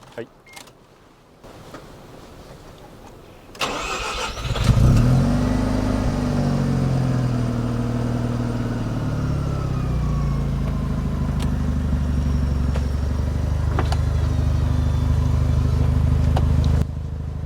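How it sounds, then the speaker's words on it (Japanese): A red fifth-generation Mazda RX-7 FD3S Type R with RE Amemiya and Fujita Engineering parts cranks briefly, then its rotary engine fires and settles into a loud, steady, burbling idle that continues to the end. "じゃあ早速エンジンかけてみましょうか。"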